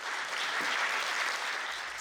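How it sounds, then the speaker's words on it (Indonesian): Lively audience applause closing a screening of a Papuan film, continuous thick clapping from a crowd that stays steady and loud across two seconds, with no voices over it. "Sambutan tepuk tangan meriah dari penonton menutup screening film asal Papua."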